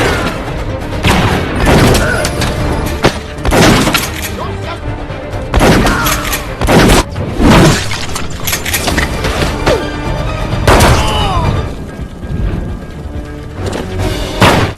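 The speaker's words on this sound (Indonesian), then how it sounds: "dan baku tembak pun dimulai." Gunfight from the 2007 action film War: repeated loud gunshots and heavy impacts burst out at irregular intervals over a busy soundtrack, with a voice narrating in Indonesian over the action.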